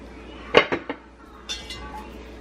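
A cooking pot on the stove clinks and clatters as butter is dropped in for an autumn soup, with a few sharp metallic knocks in quick succession followed by softer scattered taps, close and otherwise quiet.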